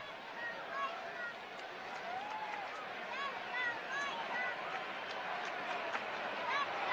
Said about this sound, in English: Big Friday night crowd trying to get the White Sox to get back in this game.